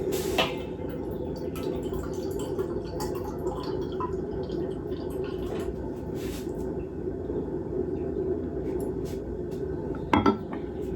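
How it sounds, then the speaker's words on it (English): Dishes clink and clatter softly in a home kitchen as they are washed and put away, with scattered light knocks over a steady background hiss and a sharper clatter near the end. "I should probably start washing some of the dishes. Put some dishes away."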